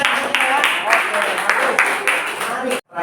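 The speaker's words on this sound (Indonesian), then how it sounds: "Berikan tepuk tangan ya." A small classroom audience claps together in steady, moderately loud applause for about three seconds before it cuts off abruptly.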